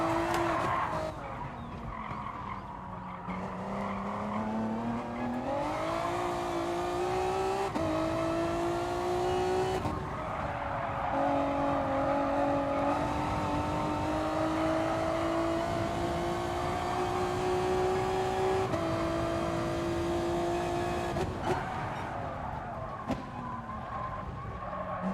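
Race cars in GT Sport, the 2008-class cars, roar continuously with rising and falling engine notes through gear changes, and tyre squeal and skidding appear at several points across the lap.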